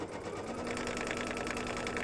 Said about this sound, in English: So I'm going to let it stitch out this grid.